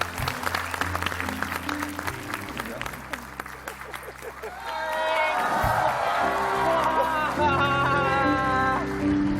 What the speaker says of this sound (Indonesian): Tepuk tangan buat Abun biar musibahnya cepet berlalu ya